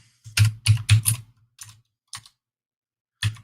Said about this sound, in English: Me just randomly typing things, hoping to find it.